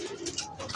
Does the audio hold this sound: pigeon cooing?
yes